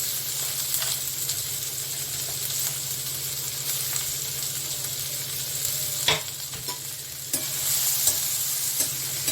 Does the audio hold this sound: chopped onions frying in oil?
yes